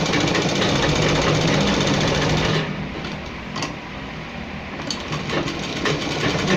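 A sewing machine runs steadily as it stitches a pocket for a men's kurta, giving a fast, even mechanical whir and clatter that slows slightly partway through, close and loud with no talk.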